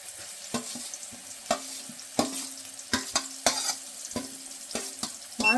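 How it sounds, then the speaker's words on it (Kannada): Raw mango pieces stirred and fried in a pan for mango chitranna rice, with a low sizzle broken by about a dozen sharp spatula knocks and scrapes in an irregular rhythm, close and clear, without speech. "ಇವಾಗ ಮಾವಿನಕಾಯಿ ಸೇರಿಸ್ಕೊತಾ ಇದ್ದೀನಿ."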